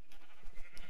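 Sheep in Minecraft give short, faint bleats, three quick calls in a row over a low background hum.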